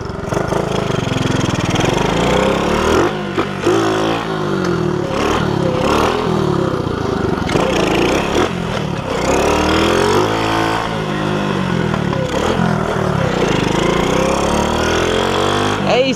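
A motorcycle engine used on a moped-style bike runs loud and close, idling roughly with repeated revs and uneven surges that stay continuous throughout, with voices talking over it at times.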